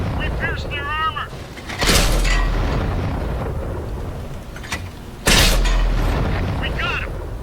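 Two heavy tank cannon shots boom out in World of Tanks, fired at a tier 1 T2 light tank; each is a loud, sharp blast with a rumbling tail, spaced a few seconds apart over steady engine and battle background.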